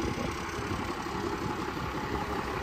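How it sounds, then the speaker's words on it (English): A 12-valve Cummins diesel idles steadily in a second-gen dually 4x4 pickup with a 5-speed manual, a continuous rumbling drone close by and without talk. "5-speed manual, 12-valve Cummins, second gen, dually, 4-wheel drive."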